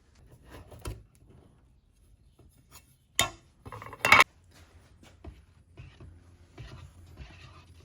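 Red paint thinned with acetone, meant for a race car's rear bumper, is stirred in a container: a few scattered scrapes and two louder knocks against the sides, separated by quiet stretches, with no talking.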